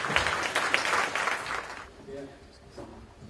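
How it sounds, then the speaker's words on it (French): Audience applause at a public gathering in Cavalaire, a dense wash of clapping from the crowd for about two seconds that then fades into quieter murmuring room noise. "j'aimerais qu'on l'applaudisse."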